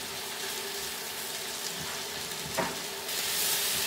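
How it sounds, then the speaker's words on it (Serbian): Chopped onion and fresh sweet peppers fry in a pan for a Hungarian-style chicken dish, giving a steady, close, dense sizzle with a brief stir around the middle and a slightly louder hiss near the end. "Nastavite dalje sa prženjem."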